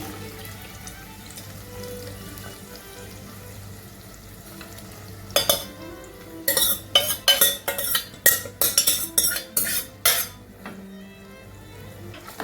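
Cooked field beans tumble into a pan on the stove and get stirred for a spicy kozhambu, sharp metallic spoon scrapes and clatters in an uneven series over a quiet background hum, with no talking.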